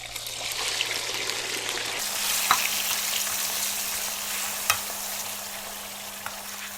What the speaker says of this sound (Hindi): इसी ऑयल में आप डाल दीजिए चिकन